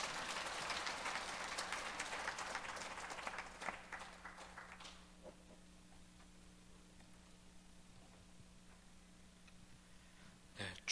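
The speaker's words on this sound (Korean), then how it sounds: "영광의 박수 올려드리겠습니다" A church congregation applauds during a worship service, a brisk burst of clapping for the first few seconds that fades off, leaving a quiet room with a low hum and a faint knock near the end.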